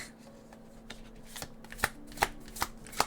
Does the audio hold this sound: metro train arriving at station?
no